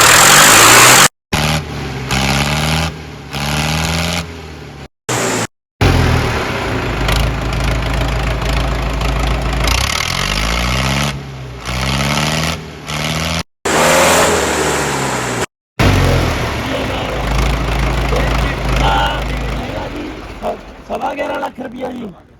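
A modified 1994 HMT 5911 tractor engine in Punjab starts and runs with a loud, steady, low diesel rumble, broken by a few abrupt cuts, with voices over it.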